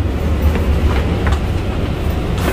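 Steady low rumble of a Long Island Rail Road train running along rails from Shirley to Jamaica, New York, with faint rhythmic clacks and rattling, close and continuous, no one speaking.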